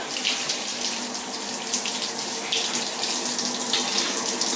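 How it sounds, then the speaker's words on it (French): Water runs steadily from a tap while a cat is rinsed after shampooing, with a constant close splashing hiss and no talking. "Donc je vais procéder au rinçage."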